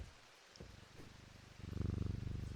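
Cat purring in the video game Strange Antiquities: a few soft pulses at first, then a close, loud, rhythmic purr rumbling steadily over a faint background hiss.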